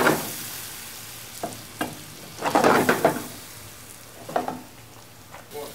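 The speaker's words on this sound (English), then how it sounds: "let this cook down so our mushrooms soften and our onions become caramelized and translucent" Mushrooms, onions, peppers and wild boar hash sizzle in a pan, a soft frying hiss broken by bursts of louder crackle as the hash is stirred and scraped, close up with no speech.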